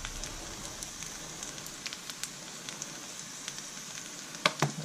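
A pizza base sizzles steadily in a frying pan for a Vietnamese street-food pizza topped with crispy fried whitebait and coconut, with a constant crackle, a few sharper pops, and a small clatter near the end.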